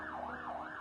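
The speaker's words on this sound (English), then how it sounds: "A night of horror in Beirut, with sirens blaring into the next morning." Emergency sirens wail in Beirut after an explosion, a rising and falling tone cycling about twice in under a second, steady and moderately distant with no voices.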